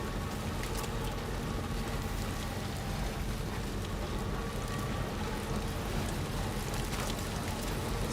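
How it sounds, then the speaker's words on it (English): Steady, dense rainfall hisses continuously with a constant wash of drops, even and unbroken throughout, with no voices, in Death Stranding 2. "look, the rain is falling down"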